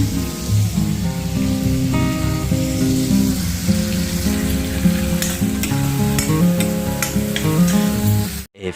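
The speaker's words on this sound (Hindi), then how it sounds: "दाल को देखती हूँ बन गई होगी तो मैं उसको तड़का लगाऊंगी" Tempering for dal sizzles and crackles loudly and steadily in hot oil in a home kitchen, with a dense frying hiss throughout and a few sharper pops near the end.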